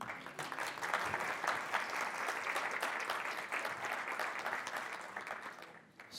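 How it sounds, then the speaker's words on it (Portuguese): A steady round of audience clapping at an entrepreneurship and innovation awards ceremony, sustained and fairly even for about six seconds before tapering off at the end. "As palmas nunca são demais"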